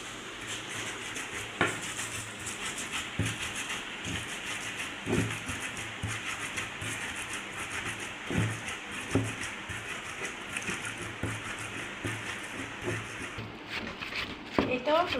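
Garlic, onion, chili and potato being mashed for a fish bharta, with soft repeated scraping and pressing thuds and occasional clinks of a utensil against a pot or bowl, close by and steady throughout.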